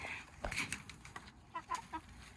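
Backyard chickens cluck in short bursts while pecking at scraps, a few close, soft calls with small scuffles and no talk.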